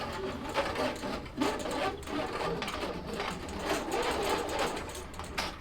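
A big whisk churns through a grain mash in a brewing vessel, giving a steady, busy stirring and sloshing at low, close level with no talk.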